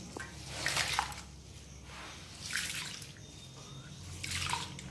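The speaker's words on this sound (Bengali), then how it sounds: "চাল ধুচ্ছি।" Rice being rinsed by hand in water in a home kitchen, with three bursts of swishing, splashing water spaced a couple of seconds apart, close by and moderately loud.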